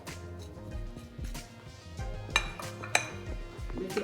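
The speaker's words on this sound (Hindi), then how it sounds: "सारी चीज़ें इसमें मैं मिक्स कर दूँगी" Spoons and a bowl clatter and scrape close by as ground cumin, coriander, black pepper and paprika are stirred together for chicken fajitas, with a few sharper clinks standing out from the steady rattle.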